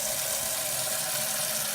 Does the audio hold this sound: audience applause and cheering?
no